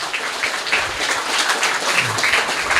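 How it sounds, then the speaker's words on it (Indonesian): A crowd claps at a local gathering in Banyuwangi, praising a school's large enrollment, a close, dense burst of applause holding steady throughout. "Tepuk tangan ini ya"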